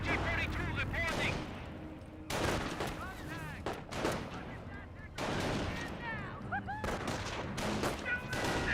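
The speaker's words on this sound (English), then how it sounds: "Grenadiers firing away." Gunfire in the Company of Heroes video game from German Grenadiers and an MG42 machine gun, heard as rattling bursts and shots mixed with chirpy battle effects and unit chatter, at moderate distance.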